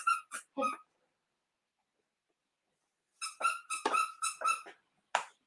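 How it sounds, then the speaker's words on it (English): Dogs whimpering and squeaking inside a house, a few short high whines near the start, then a longer run of squeaky whimpers after a pause, fairly close with no talking. "I apologize about the dogs"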